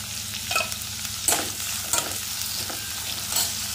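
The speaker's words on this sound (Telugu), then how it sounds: "ఇదిగోండి వీటిలోని ఇప్పుడు కట్ చేసి పెట్టుకున్న టమాటా ముక్కలు." Tomato pieces sizzle in hot oil with chilli and curry leaves for a mushroom curry, a steady frying hiss broken by a few scraping stirs of the pan.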